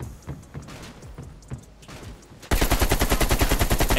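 AK rifle firing in Call of Duty Black Ops Cold War: a loud, rapid full-auto burst of evenly spaced shots that starts abruptly halfway through, after quieter gear and handling clatter.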